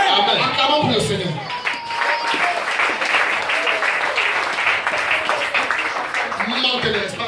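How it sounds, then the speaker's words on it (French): A church congregation applauds and cheers, a dense, sustained wave of clapping mixed with crowd voices, while a preacher's voice is heard over the start and again as it ends. "Acclamons pour le Seigneur."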